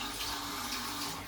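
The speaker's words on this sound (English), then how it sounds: "Wash your hands with water," Tap water running into a sink during handwashing, a steady, fairly quiet splashing stream that continues evenly for the whole brief moment.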